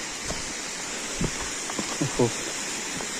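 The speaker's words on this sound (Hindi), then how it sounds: "पहला वाटरफॉल आता हुआ" Small waterfall along the trek to Pindari Glacier, running low after a dry spell, gives a steady broadband rush of falling water, with a few short voiced sounds that may be speech over it.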